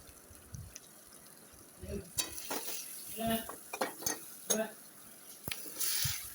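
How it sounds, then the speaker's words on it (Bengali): Taro pieces fried with spices in a pan for a fish curry, quiet sizzling with intermittent scraping stir strokes and a few soft clatters, fairly faint overall. "আমি এখন কচুগুলো দিয়ে দিলাম মশলাটা ভেজে নিয়ে ভালো করে নাড়াচাড়া করে নিলাম"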